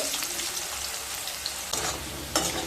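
Large cut potato pieces fry in hot oil with a steady, close, bright sizzle, broken by a few louder crackling bursts as they are turned; no voices.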